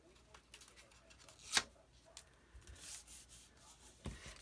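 Paper for a file folder mini album is burnished by hand, giving soft, faint rubbing strokes with one sharper scrape partway through, quiet and close.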